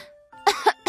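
A short, close voice makes a small dry cough in two or three quick bursts, an imitation of coughing.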